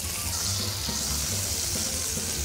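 Beef and vegetable rolls sizzle in a hot pan, a soft, steady crackling hiss with faint irregular pops throughout and no one speaking.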